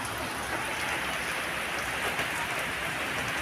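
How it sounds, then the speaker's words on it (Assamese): Heavy monsoon rain pours down outside a rural home in Assam as a dense, steady hiss of drops on surfaces. It is close and unbroken, and no voices are heard. "কিমান বৰষুণ দিছে।"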